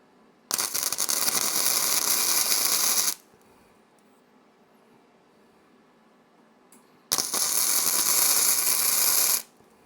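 Welding a brake pedal onto a 1920s Raleigh: two loud, sustained bursts of crackling, sizzling arc noise, each lasting a few seconds, separated by a quiet pause.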